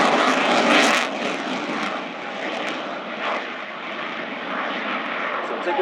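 Italian Air Force Eurofighter Typhoon jet engines roar during an air display, a loud, broad, sustained rushing thunder with a sharp burst near the start, and a commentator's voice faintly under it.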